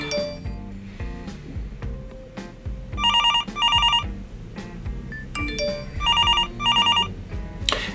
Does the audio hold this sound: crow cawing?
no